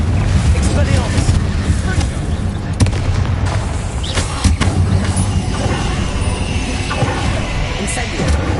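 Spells in Hogwarts Legacy go off as a busy run of booming explosions and sharp cracking blasts, one after another with little pause, loud and close over a constant rumbling backdrop.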